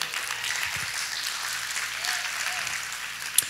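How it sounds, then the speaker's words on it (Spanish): Steady applause from a church congregation honoring military veterans, moderate and even throughout with a faint voice briefly heard. "Dele un aplauso."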